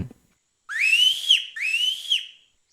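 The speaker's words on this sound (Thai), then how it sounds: "เสียงผิวปากสัญญาณ" Two long rising whistles, one after another, clear and close, with a brief pause between them in otherwise quiet surroundings.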